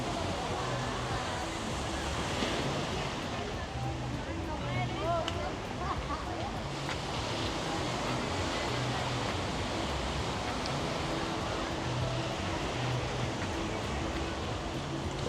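Ocean surf rolls in steadily at Playa Bonita beach in Las Terrenas, Dominican Republic, with small waves washing ashore as a continuous broad roar. A busy beach crowd murmurs faintly underneath.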